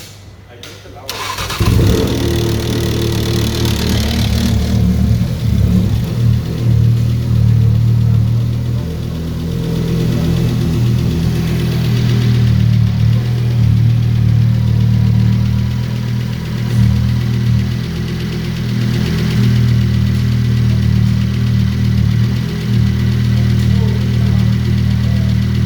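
An Audi RS3 DAZA engine, freshly rebuilt, cranks and catches, then settles into a steady, loud, close idle with a deep rumble, while people talk over it.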